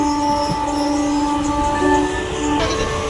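Local train at Sealdah station, Kolkata: sustained tonal whines and squeals over a steady low rumble, heard from close by without any talking.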